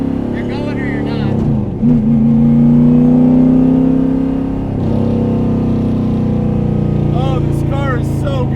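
A 600 HP 1972 Corvette autocross car accelerates hard, its engine roaring loudly with rising and falling pitch across gear changes, heard close up from inside the car while people talk over it.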